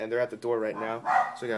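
A dog barks in short bursts indoors, partly buried under a person talking close by.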